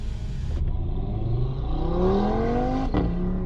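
Audi TT RS engine revving from inside the car, a sustained rising whine and growl that climbs steadily with brief gear-change breaks, heard alone without talk.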